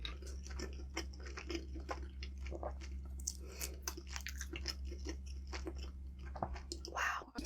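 Close, soft chewing and biting sounds of someone eating pork, egg and white rice, a steady stream of small wet crunches over a low constant hum.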